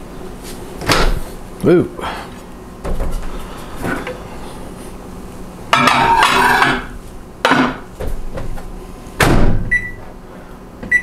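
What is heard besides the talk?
microwave door opening and closing, plate handled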